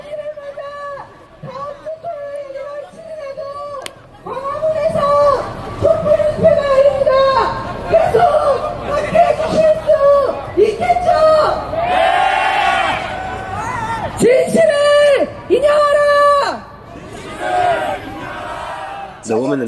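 Korean protest crowd during the president's impeachment turmoil, loud and close, with a woman yelling and chanting over a dense babble of voices, shouts and cheers rising and falling throughout.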